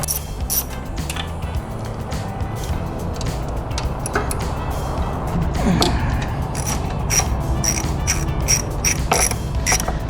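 A 13 mm wrench loosens bolts on an Indian Challenger motorcycle. Close ratcheting clicks come in quick bursts with small metallic knocks, steady and unvoiced throughout.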